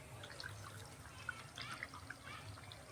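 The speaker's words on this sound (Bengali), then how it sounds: "এই যে ঝোলটা এইভাবে ফুটবে, একদম আস্তে আস্তে" A pot of chicken curry gravy with potatoes simmers gently, giving soft bubbling pops and small liquid blips over a low, quiet background.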